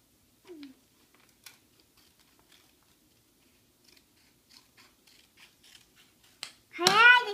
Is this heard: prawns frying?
no